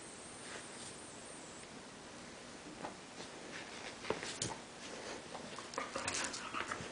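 A puppy whimpers and growls softly in short, faint bursts against quiet background rustling, with a few sharper squeaks toward the end.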